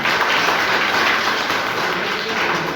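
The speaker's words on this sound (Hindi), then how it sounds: "समीर मोदी जी को एक बार जबरदस्त धन्यवाद, एक तालियां जरूर देनी" Steady, dense applause from an audience at a Modicare Goa tour planning meeting, even in loudness from start to end with no talk over it.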